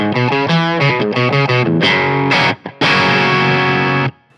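Electric guitar, a Suro Classic S with Fletcher Landau pickups, played straight into an amp: a loud, gritty riff of ringing chords and notes, briefly dropping out twice before a long held chord that stops cleanly.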